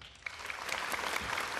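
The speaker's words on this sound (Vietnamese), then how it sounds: "khán giả nên dành cho em thêm một tràng pháo tay nữa" An audience at a Vietnamese TV singing show applauds a brother-and-sister duet, a brief, soft wash of steady clapping heard from a distance.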